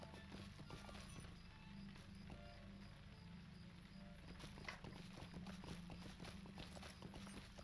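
A horse's hooves clip-clop at a steady walking rhythm in the Lord of the Rings Online game. The beats are faint and even, over a quiet ambient background.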